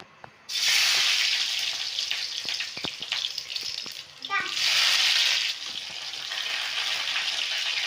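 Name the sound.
garlic, chilli and tomato tempering sizzling in hot oil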